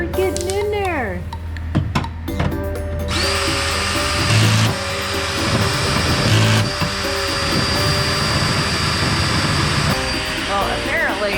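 Power drill boring into a steel safe door, a sustained loud whine running steadily for several seconds, with people talking nearby before and during the drilling.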